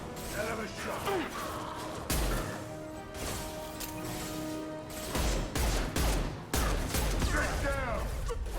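Mass Effect 2 combat with repeated heavy gunshots and impacts ringing out over a dense battle mix, loud and close, with voices talking throughout.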